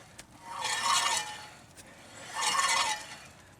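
Two drawn-out metallic brake scraping sweeps from a Pontiac Grand Am, each rising and fading over about a second, with a quiet pause between them.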